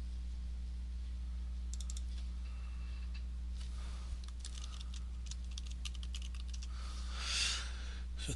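Computer keyboard keys clicked in quick bursts of typing over a steady low electrical hum, fairly quiet and close, with no one speaking.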